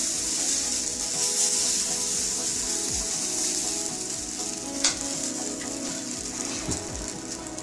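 Rice flour uttapam batter sizzles steadily in a hot pan, a close, continuous crackle and hiss with a few small pops, no voices over it.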